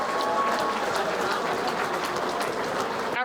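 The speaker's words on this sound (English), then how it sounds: "let's give both these athletes a huge round of applause" A fight-night crowd at a UKFC 23 event applauds both fighters after a bout, giving a steady, dense wash of clapping and crowd noise that holds at full volume for the whole stretch.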